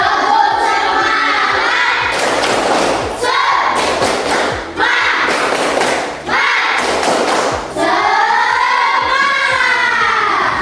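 A classroom does an energizing clapping chant, with rhythmic group claps in several loud bursts alternating with children's chanted voices.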